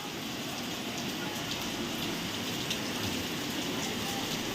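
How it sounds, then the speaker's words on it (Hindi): Heavy rain pours down in a dense, steady roaring hiss that stays loud and unbroken throughout, with no voices. "देखो कितनी बारिश हो रही है"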